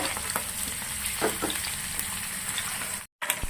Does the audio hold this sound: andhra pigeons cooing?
no